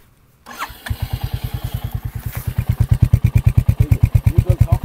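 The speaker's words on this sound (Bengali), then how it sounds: "তো আমি আপনাদের এক্সজস্টের একটা সাউন্ড, মানে নিউট্রাল একটা সাউন্ড আপনাদের শোনাই দিচ্ছি।" A Royal Enfield motorcycle starts after a moment of quiet and settles into a steady, loud, thumping exhaust idle in neutral, its even pulses close and alone.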